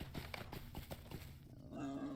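Horse hooves clip-clop in a steady rhythm while riding in the online game The Lord of the Rings Online (LOTRO), close and fairly quiet, ending in a brief sustained tone.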